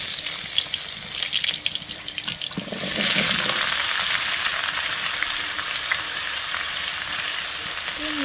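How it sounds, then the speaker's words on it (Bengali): Pumpkin and vegetables hit hot mustard oil tempered with dried red chilli and five-spice, bursting into a loud, steady sizzle and hiss that holds close and continuous, with no voices. "তার আগে একটু ফোড়ন দিয়ে সবজিগুলো ভেজে নেব।"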